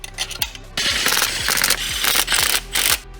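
A hand ratchet tightens bolts on the belt tensioner of an Audi S4, with rapid, loud metallic clicking bursts repeating in a quick, uneven rhythm, very close.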